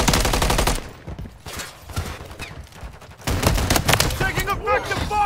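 Automatic rifle fire rattles in rapid bursts in the Call of Duty Modern Warfare 3 video game. The MCW assault rifle fires loud, close strings of shots, which break off for a short pause and then resume in fresh volleys, mixed with faint battle chatter.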